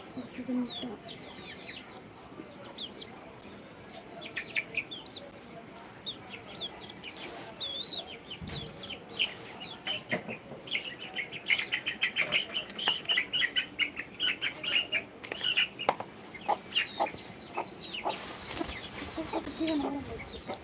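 Free-range country chickens cluck and chirp steadily around feed, a busy flock sounding close with many overlapping calls, growing denser and louder toward the end.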